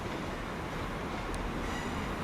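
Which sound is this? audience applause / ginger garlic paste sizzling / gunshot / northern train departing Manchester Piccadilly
northern train departing Manchester Piccadilly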